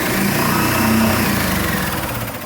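An air compressor with a broken switch runs steadily in a garage under remodel, a loud continuous motor drone with a droning low hum that holds level throughout and no talk over it.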